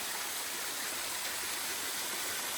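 Water rushing down the Cascades along the Appalachian Trail near Mahoosuc Notch, a steady, dense roar of flowing stream with no pauses, loud and close throughout.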